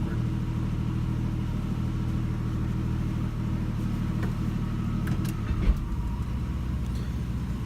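A 1977 AMC Hornet's engine idles in a steady, smooth low rumble, close and continuous, with a brief knock near the end and no talking.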